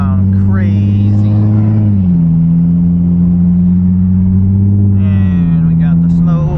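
A Nissan 350Z with a dual three-inch titanium exhaust drones loudly and close, its engine note stepping up in pitch twice as it revs, with a person talking over it.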